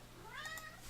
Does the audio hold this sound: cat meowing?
yes